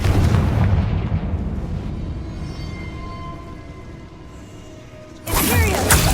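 A Confringo blasting spell explodes in Hogwarts Legacy: a deep booming blast that rumbles and slowly fades over several seconds, then a second loud burst strikes near the end.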